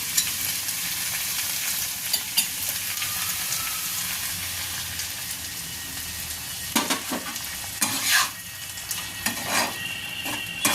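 Vetki fish saute sizzles steadily in a pan after a cornflour slurry is added, a continuous hiss with scattered utensil scrapes and clinks that grow busier toward the end.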